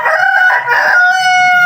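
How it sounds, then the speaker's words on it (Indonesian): A rooster crows loudly and close by, one sustained cock-a-doodle-doo call with a rising then held tone, heard alone with no talk. "Biar tidak ada suara ayam-ayam berkokok begitu ya"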